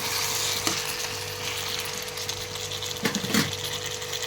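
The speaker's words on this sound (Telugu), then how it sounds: "అన్నిటిని వేసి బాగా కలిపి ఇందులోని కడిగి ఉంచుకున్న చింతపండును కూడా వేసి కలిపెట్టాలండి." A spoon stirs tamarind into a cooking cucumber and tomato chutney in a pan over a soft continuous sizzle, with a few brief scraping bursts standing out near the start and toward the end.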